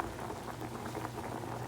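Potato chunks boil in a pot of water, a steady close bubbling and popping with a low simmering rumble throughout.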